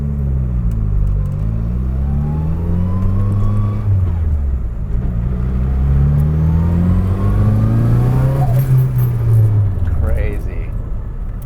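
An SR20-swapped Datsun 240Z drives with a deep, rumbling engine that rises and falls through several revs and shifts, heard from close by, with people talking over the engine noise.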